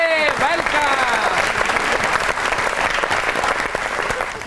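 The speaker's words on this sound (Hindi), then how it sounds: "बहुत सी तालियों में" A TV studio audience on a comedy talk show breaks into loud, dense clapping close by, and a voice overlaps the opening moment before the applause carries on steadily by itself.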